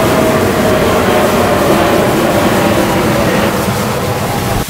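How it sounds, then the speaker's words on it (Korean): A steady, loud roar of an airplane bound for Incheon Airport passing overhead on Hoamsan mountain in Seoul fills the whole stretch, constant and broad without pause. "지금 비행기 소리 들리시죠?"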